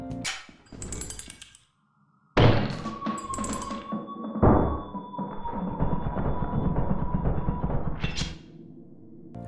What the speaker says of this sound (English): Try and kill them while they're reloading using a knife.